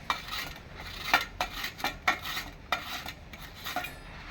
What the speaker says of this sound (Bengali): এই যে একটা গিটারের সাহায্যে আমি আমটাকে ঘষে নেব।